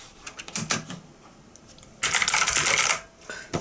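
Clicky key presses on a One-Up mechanical keyboard with lighting keys, scattered single taps at first, then a dense, loud burst of rapid typing before it trails off into a few last clicks.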